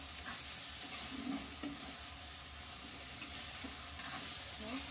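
Masala chicken sizzles quietly in a hot pan while a spoon stirs it with soft scrapes and a few brief knocks. The sound is faint, steady and has no talk.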